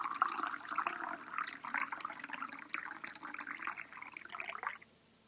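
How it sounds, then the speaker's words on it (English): Water from a river poured into a bowl, a steady splashing pour that runs for about five seconds before stopping abruptly, close and fairly loud with no talk. "he poured out some of the water he had brought back from the river into the bowl"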